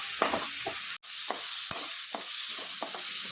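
Onion paste and ground coconut masala sauté in oil for a Solapur-style kheema unde, a soft continuous sizzle broken by repeated spoon scrapes and stirring knocks at an uneven pace, close by with no voices.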